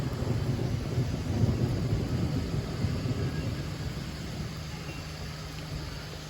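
Thunder rumbling through a heavy rainstorm near the Rathoa Haryam bridge in Mirpur, a deep continuous roll that is loud at first and slowly fades, with no voices.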